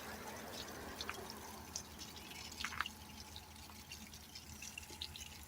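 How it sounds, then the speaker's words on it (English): Water trickles and drips from a freshly watered garden plant outdoors, a faint steady patter with scattered small splashes under low background noise. "start watering these guys while the water is running out of that plant."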